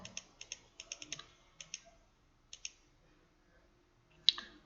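Keys clicking on a computer keyboard during accounting data entry, in short bursts of a few taps with gaps, then a single sharper key press like hitting Enter near the end; quiet and close, no talk.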